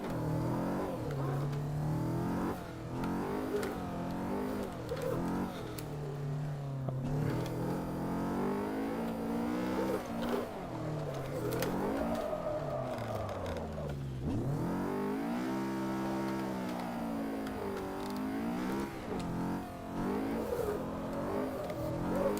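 A Maserati MC4 GT4 engine in a VR racing game revs and shifts over and over, the pitch climbing and dropping through gears as throttle is blipped during sliding, loud and continuous with no talk.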